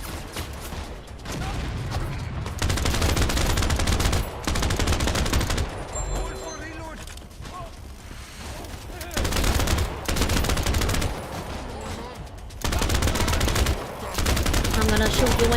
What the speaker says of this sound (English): Keep shooting. I'm reloading.